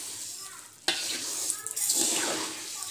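Coriander seeds stirred while dry roasting in a pan, a sudden scraping rush of gritty rustling that continues in uneven sweeps, fairly close.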